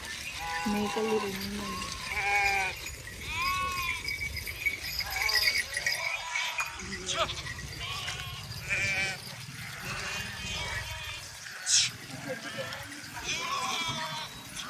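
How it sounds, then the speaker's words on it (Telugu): Several goats bleat repeatedly amid a busy outdoor crowd, their calls overlapping with people talking nearby and a faint rattling. "మేకలన్నీ వెళ్తున్నాయి."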